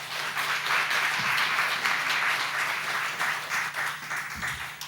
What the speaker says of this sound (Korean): 큰 박수와 환호로 맞아주시면 좋을 것 같고요